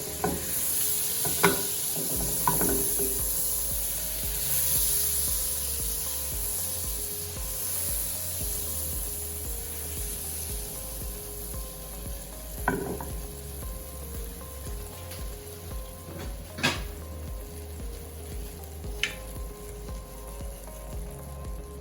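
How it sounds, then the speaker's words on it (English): A stick of butter melts in a pot with a soft, steady sizzle and faint crackle, interrupted by occasional clicks and light stirring taps. "We're gonna be adding the butter to the pot to get melted."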